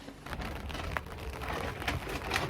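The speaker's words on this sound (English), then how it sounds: "It's raining." Steady rain falling on a winter day, a continuous broadband wash with a few faint drop-like ticks, fairly quiet and without talk.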